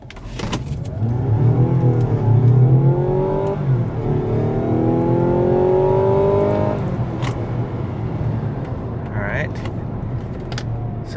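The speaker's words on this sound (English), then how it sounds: "So that is the full acceleration, 0 to roughly 60 in sport mode." A 2024 Mazda CX-90 PHEV Premium Plus accelerates at full throttle in sport mode, its engine note rising through a couple of gear changes, loud from inside the cabin before easing to a steadier cruise.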